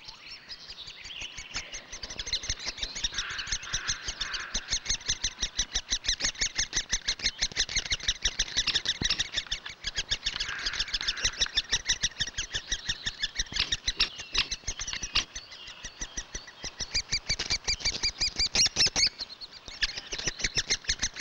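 Great spotted woodpecker nestlings squawk without pause from their nest, a dense, loud, rapid train of harsh calls repeating throughout with no gaps.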